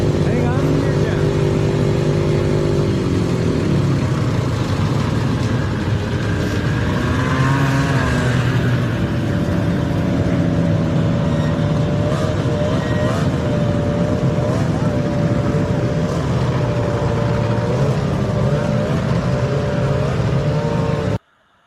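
Vintage snowmobiles passing in a group, a continuous loud engine roar with rising and falling pitch as sleds go by one after another, voices talking over the noise.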